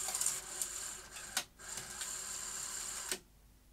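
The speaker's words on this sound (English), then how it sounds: "It's taking notice of the eject, but not managing to do an eject." Mechanism of a Sony SuperBeta SL-HF600 VCR trying and failing to eject a tape: a whirring motor hum with a few clicks and clunks, close and faint, stopping abruptly at the end.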